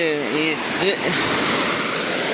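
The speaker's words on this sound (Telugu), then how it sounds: "ఒక అల వచ్చిన తర్వాత కొంచెంసేపు ఇంకొక అల వచ్చేది ఇప్పుడు చూడండి ఫాస్ట్ ఫాస్ట్గా వస్తున్నాయి" Sea waves roll in and break on the shore in quick succession, a continuous loud wash of surf with wind noise, and a voice briefly speaking over it at the start.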